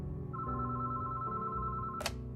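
An old-style telephone bell rings in a steady electronic trill, clear and alone, cutting off with a short bright burst at the end.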